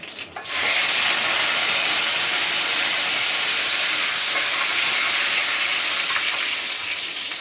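A tempering of mustard, cumin, garlic and curry leaves sizzles in hot oil, a loud, steady, close hiss that bursts in after half a second and holds to the end with no voices.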